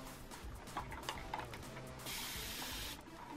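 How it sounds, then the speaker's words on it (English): A spray bottle spraying water onto hair hisses in a short burst lasting about a second, preceded by a few faint clicks and rustles, fairly quiet. "Now I'm just going to spray more water."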